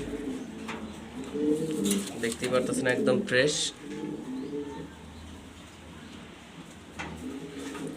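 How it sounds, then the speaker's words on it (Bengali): Rare-colored Jharna shorting pigeons coo in low, soft rolling calls, mostly in the first few seconds and again near the end, while someone talks over them. "দেখার মতো কবুতর এগুলো খুবই সুন্দর"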